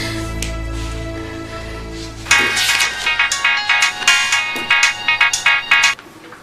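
A telephone rings with a melodic electronic ringtone, a bright repeating tune that starts suddenly after a low hum and carries on clearly in a domestic scene from a Kabyle-language film, with no one talking.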